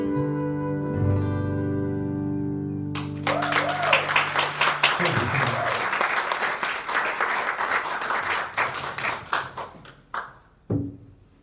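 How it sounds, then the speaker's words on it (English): A congregation at a Sunday celebration service bursts into a warm round of applause, dense clapping rising after a held musical tone, then thinning into scattered claps and a few final loud ones. "a warm round of applause, please, for Danielle and Doreen"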